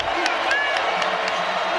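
A basketball arena crowd at a Georgia vs LSU game keeps up a steady roar with scattered cheers and claps, while a commentator talks over it.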